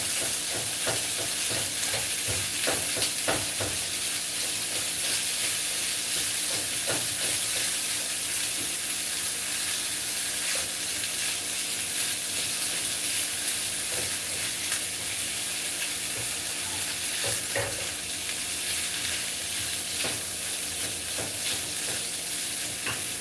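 Leftover white rice, garbanzo beans and black beans sizzle steadily in a hot frying pan, with intermittent scraping and stirring sounds over a continuous close frying hiss.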